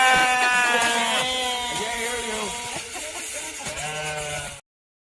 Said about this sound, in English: there was a group of goats there who were the most obnoxious goats I've ever seen in my life